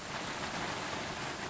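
Heavy rain downpour on safari in Tanzania, a dense, even roar of falling water that stays steady and continuous, loud and close, with no voices.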